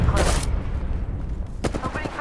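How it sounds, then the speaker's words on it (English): Gunfire in the video game Apex Legends: short bursts of rapid shots open and close the moment, with a quieter gap between, alongside brief in-game character voice lines. "Opening fire."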